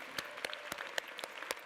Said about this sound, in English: Can we give our founders a huge round of applause?